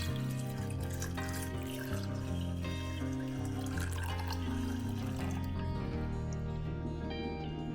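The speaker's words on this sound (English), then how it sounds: "Add twice water as much as red beans." Water pours steadily onto red beans in a pot, a continuous splashing trickle with light drips, close by and mixed under background music.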